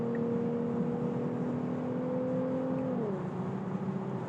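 Engine of a car ahead flooring it on a highway on-ramp merge, heard from inside a 2026 Tesla Model Y: a steady, loud droning hum with a sustained tone that dips slightly in pitch near the end, no talking.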